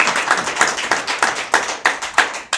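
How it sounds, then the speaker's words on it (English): Applause at a KRA meeting, a small group clapping close by, with sharp, distinct hand claps landing in an uneven rhythm over about two and a half seconds. "Let's give a big round of applause here."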